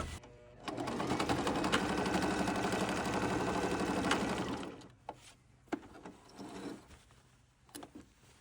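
Sewing machine stitching closed a gap in table linen, a steady close whirring run of about four seconds, then stops, followed by scattered clicks and handling sounds.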